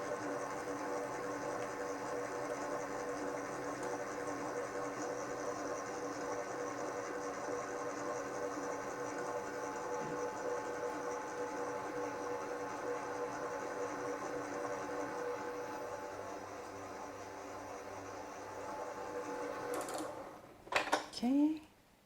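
An electric stand mixer whirs at speed 4, beating crumb cake batter with a steady, even mechanical hum that holds for about twenty seconds before a few clanks against the bowl at the end.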